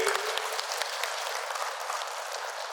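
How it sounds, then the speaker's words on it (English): An audience at a machine and toolkit distribution ceremony applauds steadily with dense, even clapping that carries through the moment. No one speaks over it. "let us all give a round of applause for his presence here today."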